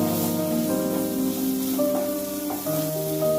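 Spices and vegetables sizzle steadily in a hot pan for a chicken gobi paratha filling, a loud continuous frying hiss with faint stirring underneath.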